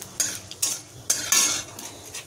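Mango pickle spluttering in hot oil in a pan as it is stirred: several sharp, crackling pops with spoon scraping, spaced across a couple of seconds, close and fairly loud with no talk.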